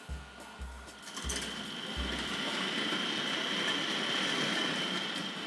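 A Hornby Dublo Co-Bo model locomotive hauling insulated meat wagons starts up with a few low thumps, then settles into a steady whirring motor and rail rumble close by.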